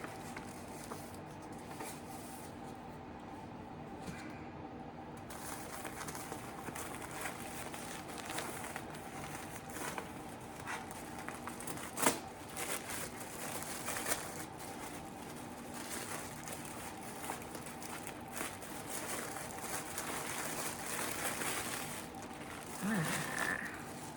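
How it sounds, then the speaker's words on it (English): Tea packets in paper wrappers crinkling and rustling close by, a steady scratchy texture of soft crackles with a few sharper crisp bursts running throughout, no voices. "crinkly sound of the paper"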